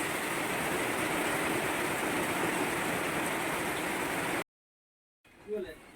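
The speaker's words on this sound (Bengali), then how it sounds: "গপ গপ করে জল পড়ছে দেখো কিভাবে বৃষ্টিটা হচ্ছে আর এই দেখো জল কিভাবে নামছে" Heavy rain with water pouring down makes a dense, even hiss that runs unbroken for about four seconds, then cuts off abruptly into near silence before a faint brief sound.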